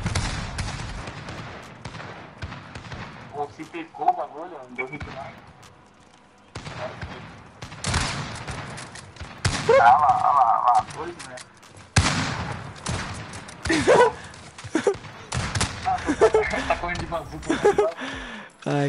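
Bursts of rapid video-game gunfire and single sniper shots come in irregular clusters, loud and close, with someone talking excitedly between them.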